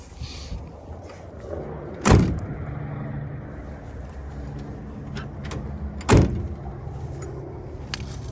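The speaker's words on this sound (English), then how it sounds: "Door's shut good." An old car door at an Arkansas junkyard is shut twice, two loud, close thuds about four seconds apart over a quiet outdoor background.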